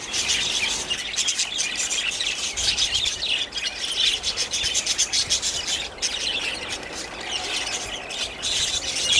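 Budgies in a large homemade backyard aviary give a busy, overlapping chatter of chirps and squawks with some rustling, steady throughout.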